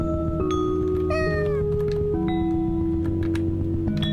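A cat in the horror video game Returning Nightmares lets out a few drawn-out meows over a steady, droning game soundtrack with sustained tones.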